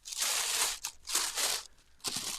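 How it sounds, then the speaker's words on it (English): A crinkly plastic package is unwrapped up close in three bursts of sharp crackling and rustling separated by short pauses. "I'm unwrapping. Oh, I know it's all crinkly."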